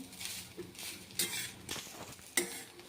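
Grated coconut being stirred in a pan over heat, with soft scraping strokes and a few sharper clinks of the spoon against the pan, close and fairly quiet, with no talk.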